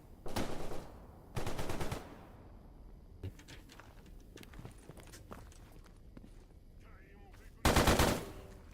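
Video-game gunfire in STALKER GAMMA: two loud automatic bursts near the start, scattered single shots and footstep-like clatter through the middle, then another heavy burst near the end.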